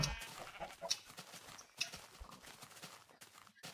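Minecraft sheep bleat several times while being sheared in the game, short nasal cries spaced across the clip, mixed with clip-clop footstep sounds and other game noises.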